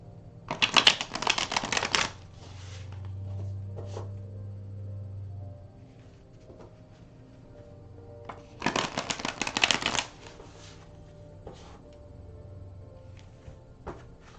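A deck of tarot cards being shuffled, two loud crisp riffling bursts near the start and again about eight seconds later, close up, with soft music in the background between them.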